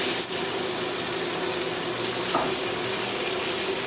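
Canned Grace callaloo with plenty of water poured into a cooking pot, a continuous wet rushing and sloshing with faint clinks, close and steady throughout.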